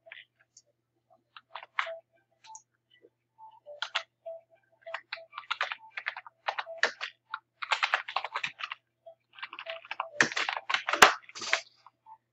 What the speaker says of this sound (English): Just typing very fast because